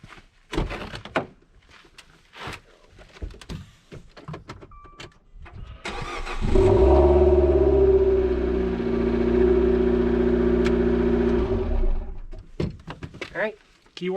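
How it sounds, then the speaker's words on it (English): A 2013 Dodge Dart engine cranks and turns over, then idles with a steady low rumble for several seconds before cutting off; a voice speaks before and after. "Now let's make sure the car starts"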